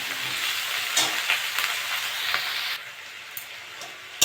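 Eggplant and potato pieces frying in oil in a pan, a strong steady sizzle broken by spatula scrapes and stirring knocks, easing slightly near the end, close and with no voices.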